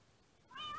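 A cat meows in the Mastercraft video game, one short rising call coming in after a near-silent start, thin and fairly quiet.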